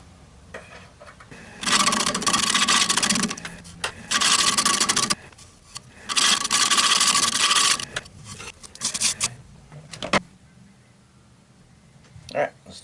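An Eastern Red Cedar bowl being turned on a wood lathe, with loud rasping, scraping bursts of a few seconds each, separated by brief pauses and quieter handling sounds.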